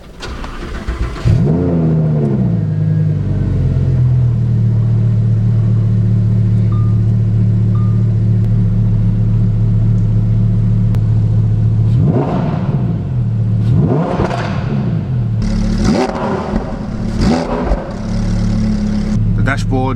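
Lamborghini Huracan Performante at a Copart salvage yard cranks and fires into a loud, deep idle, followed by three sharp throttle blips that rise and fall near the end.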